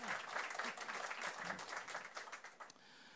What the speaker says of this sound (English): can we give our panelists a round of applause before we get started?